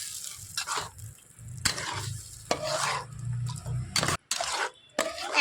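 Spoon stirring a semolina and gram flour batter with spices in a sizzling pan, giving repeated scraping strokes in bursts with brief pauses, close and fairly loud.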